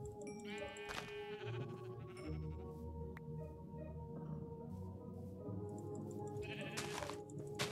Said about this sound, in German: Oh, hier sind richtig viele Schafe.